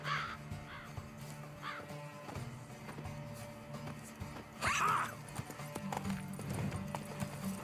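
Galloping horse hooves in The Witcher 3 pound in a quick, driving rhythm, close and steady, with a few bird caws and a brief swell of movement partway through; almost no talking.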